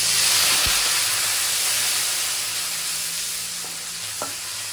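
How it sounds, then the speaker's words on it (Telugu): Curry leaves dropped into hot oil for an Andhra fish curry, giving a steady broad frying sizzle and hiss that fades slowly, with a few small clicks from a spoon or pan. "ఇప్పుడు కరివేపాకు వేస్తాం."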